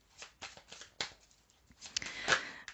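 A playing card is drawn from a deck and flipped over, giving a few short papery flicks and slides, close and fairly soft, with a brighter rustle near the end and no voices.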